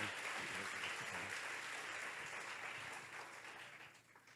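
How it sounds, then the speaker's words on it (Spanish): Congregation at an international holiness and revival church conference applauds in a dense, distant-sounding wash of clapping that holds steady and then slowly fades. "Dê aplauso a Jesus, a Deus."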